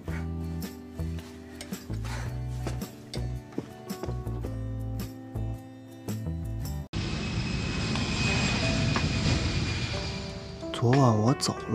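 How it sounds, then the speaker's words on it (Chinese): Airliner cabin before takeoff: a steady, loud engine and cabin drone fills the second half, following a stretch of music, with voices heard over it. "飞机即将起飞，请各位乘客系好安全带，收起小桌板、小指座椅靠背。"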